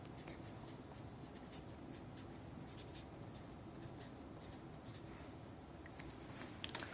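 An ink pen scratches across a card on a lab bench, faint, soft and continuous with small irregular strokes, and a brief clink near the end.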